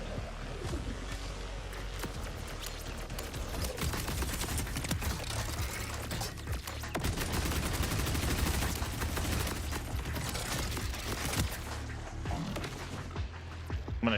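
Continuous rapid gunfire from a tracker gun in Borderlands 4, dense bursts of shots running almost the whole time with booming impacts and explosions mixed in, loud and close.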